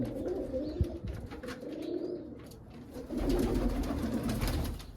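Pet pigeons, including a black-tailed one, cooing in a backyard loft, low throaty coos repeating steadily and close, with the flock's calls swelling louder in the latter half.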